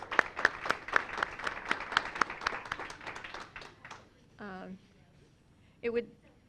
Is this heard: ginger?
no